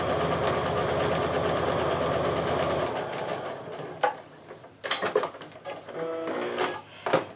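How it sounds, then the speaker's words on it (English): A sewing machine stitching quilt fabric along a drawn line runs as a fast steady mechanical patter for about three seconds, then stops, leaving short handling clicks and knocks. "And now I'm just going to sew along that line."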